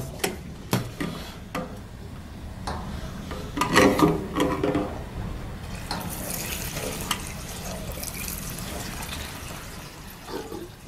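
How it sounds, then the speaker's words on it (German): Regular petrol poured into the tank of a Kraftherrz 6.5 PS 3000 W power generator makes a steady liquid trickle and splash, with scattered sharp clicks and knocks early on and a rising gurgle as the tank fills. "Ja, da wollen wir mal ganz normales Benzin"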